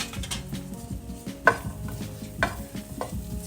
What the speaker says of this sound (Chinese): 这个时候要开小火炒就可以了，不然黄油会糊掉。